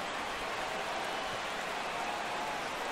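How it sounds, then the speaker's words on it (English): Baseball stadium crowd in MLB The Show 17 rising on a full count, a steady wash of cheering and applause at moderate level without clear peaks. "Crowd gets up for the 3-2"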